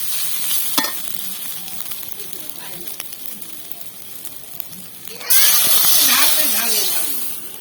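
Spice masala sizzles and scrapes under stirring in a pan, then water poured in at about five seconds sets off a sudden loud, steady hissing burst that slowly settles.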